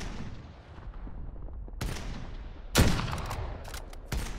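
A few scattered gunshots in Call of Duty: Modern Warfare, sharp distant cracks with echoing tails spaced out over a low background rumble, one louder shot standing out among them.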